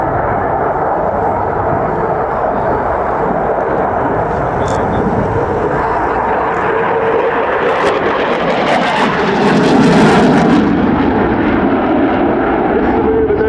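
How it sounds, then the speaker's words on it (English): Aircraft flying a display manoeuvre at the RAF Cosford Airshow, a sustained jet roar that swells louder toward the end as it passes, with a commentator talking over it. "we were shortly to see once again this aircraft's outstanding agility demonstrated"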